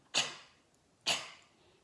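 Two deep, breathy cough-like exhales pushed out from the throat, not the chest, during a throat chakra practice, spaced about a second apart, close and fairly quiet.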